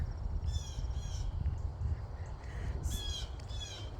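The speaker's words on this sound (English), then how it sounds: "And all the birds." Crows cawing outdoors on a chilly, sunny morning walk, several harsh calls in short bursts at moderate distance over a steady background hum.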